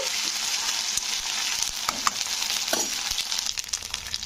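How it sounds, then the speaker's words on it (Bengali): Ginger garlic paste fries in a pan for a spicy bitter gourd dish, a loud close sizzle broken by repeated scraping strokes of a spoon stirring, with no talking. "আদা রসুনের পেস্টটাকে নাড়তে হবে যতক্ষণ না আদা রসুনের গন্ধটা কেটে যাচ্ছে"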